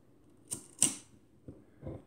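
Shutter of an Exakta Varex IIb film camera with a Tessar 50mm lens being cocked and released, two sharp mechanical clicks close together followed by two softer clacks, close up in a quiet room.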